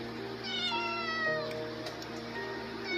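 A calico mother cat meows in a long, drawn-out wavering cry, fairly close and clear, with no talking over it.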